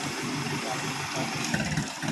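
A motorcycle engine running nearby, a steady mid-pitched rumble that rises slightly toward the end as if being revved.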